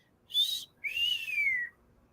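A person whistles two notes to imitate a bird's call, a short high tone followed by a longer slurred descending one, clear and close with no other sound.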